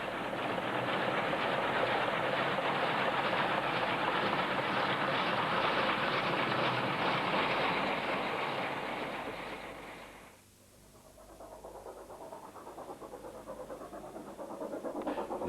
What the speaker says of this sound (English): follows Class 25 NC number 3410 working a safari train southwards between Springfontein and Colesberg